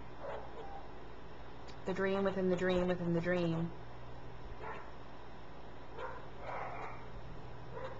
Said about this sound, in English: My neighbor's dogs have apparently decided to come and have a little chat in the background.